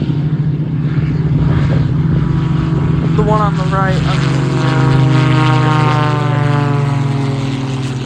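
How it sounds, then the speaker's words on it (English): Two propeller airplanes fly a side-by-side drag race at the EAA AirVenture Oshkosh airshow, a loud steady engine drone with rising and falling pitch sweeps as they pass, heard under a person talking. "these two planes sort of drag race each other"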